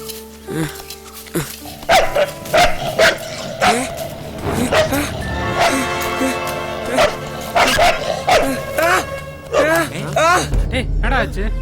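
A dog barks repeatedly in short yipping bursts, mixed with whimpers, while several people shout and talk over it.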